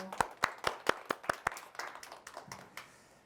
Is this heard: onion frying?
no